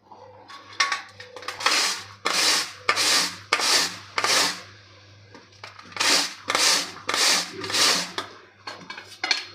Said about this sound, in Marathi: आता आपल्याला ही कारली किसून घ्यायची आहे